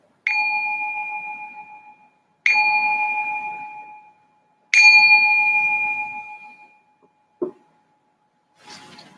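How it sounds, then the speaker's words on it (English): A meditation bell is struck three times in slow succession, each strike ringing out clearly and decaying over about two seconds, followed by a couple of brief fainter knocks at the end; no talking. "just ring this bell to signal the start of this meditation"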